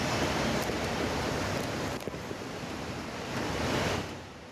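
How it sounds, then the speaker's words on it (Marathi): The swollen Dahisar river in Mumbai surges after heavy, continuous rain. Its broad rushing roar stays loud and steady throughout, with no voices. "दहिसर नदीच्या पाण्याच्या पातळीमध्ये मोठ्या प्रमाणात वाढ झाली आपण या दृश्यांच्या माध्यमातून पाहू शकतो"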